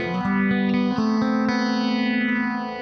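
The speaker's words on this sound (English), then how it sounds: "I put in this nice little broken chord passage that really gave the phaser something to grab onto" An electric guitar plays a broken-chord arpeggio passage through a phaser pedal, the sweeping effect audibly rising and falling across sustained, overlapping notes with a slightly distorted, echoing tone.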